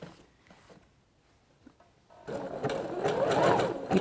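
A domestic sewing machine stitches a swimsuit lining in one continuous run, starting after a quiet pause and whirring steadily and close at a constant speed until the end.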